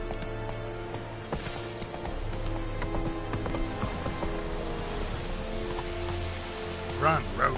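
A horse gallops in The Witcher 3 video game: quick, rhythmic clip-clop hoofbeats over a soft patter of rain, with a short burst of other game sounds near the end.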